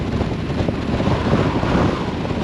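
Heavy wind buffeting a rider on a Harley-Davidson Street Glide Special motorcycle, with air blowing past the windscreen onto the legs. A constant, loud, broadband rumble and roar that is close to the microphone, with no one talking.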